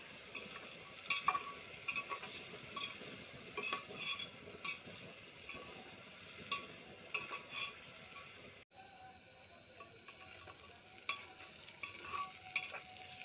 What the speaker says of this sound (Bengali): তো এইগুলো ভালো করে ভাজা হয়ে থাকা